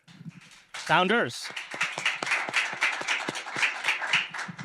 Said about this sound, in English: let's welcome up with a round of applause our first founders